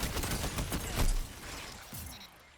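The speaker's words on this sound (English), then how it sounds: "The guy dared to play the video game, so he was punished by using a shotgun hand cannon." Loud spread-shot hand cannon fired in a sci-fi PvP shooter match, a burst of dense blasts in the first second followed by a decaying rumble and quieter game effects.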